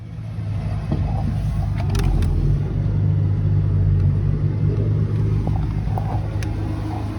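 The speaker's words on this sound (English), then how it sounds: "So the heater turned on, the pump's just kicked in" A diesel heater hums and rumbles steadily as it starts up, its fuel pump running alongside with faint ticking clicks, a continuous moderate motor drone with no talking.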